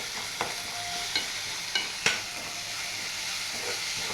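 Tomato, ginger and garlic sizzle steadily in a pan on a home stove for a chapati and egg curry meal, with a few sharp clinks of a spoon stirring against the pan.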